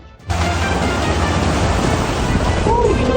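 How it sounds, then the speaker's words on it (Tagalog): Floodwater rushes down the Lusaran River in Cebu City during heavy rain, a loud, dense, unbroken roar that starts abruptly and holds steady throughout. "Humagasa ang tubig sa Lusaran River sa Cebu City, kasabay ng malakas na buhos ng ulan."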